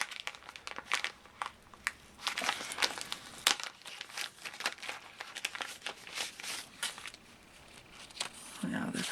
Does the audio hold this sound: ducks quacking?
no